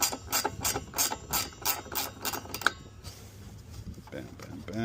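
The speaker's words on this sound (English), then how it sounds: "Next, we're going to use a 13 millimeter. We're going to go ahead, we're going to loosen this up." A 13 mm ratchet loosening the wiper arm nut on a Chevy S10 gives quick, close, rhythmic clicking pulses that stop partway through, followed by quieter handling sounds.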